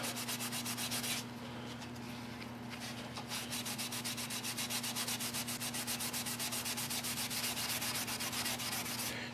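Sandpaper works over primer on a rusty Suburban body panel near an edge: a continuous close, loud abrasive rasp with fast regular strokes over a steady low hum, briefly easing after the first second.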